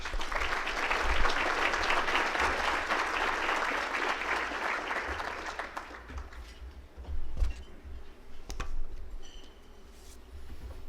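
An audience at the Akron Roundtable applauds to welcome speaker Brett Crozier, CEO of LTA Research, with a sustained burst of clapping that fades after about six seconds and leaves scattered soft handling noises.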